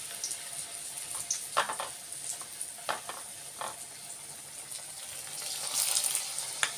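Brinjal pieces frying in oil in a pan used for an Assamese thali, giving a steady soft sizzle with brief louder crackles and stirring clatter, close by and with no voices.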